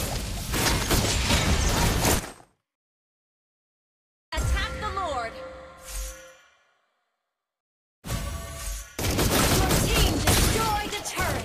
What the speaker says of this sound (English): Behold my crescendo bullet.